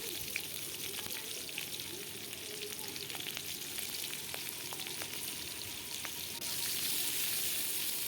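Chopped onion and chili sizzle and crackle steadily in hot oil, a close, continuous frying hiss that grows slightly louder near the end.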